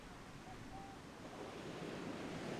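Ocean waves breaking on the beach at Clifton, Cape Town, during a surf lifesaving race: a steady, faint hiss and roll of surf that swells slightly louder toward the end, with no voices.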